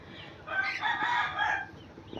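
An egg-laying hen clucks and calls loudly for about a second, close by, with quiet surroundings before and after.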